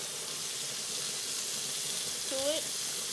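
Steaks sizzle steadily in a frying pan as butter is added, a close, even hiss of frying fat, with a brief voice cutting in near the end.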